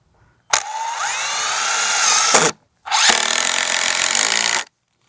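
Power drill driving screws into a wooden support beam for a walkway, two loud close bursts of whining motor, each rising as the screw bites, separated by a short pause.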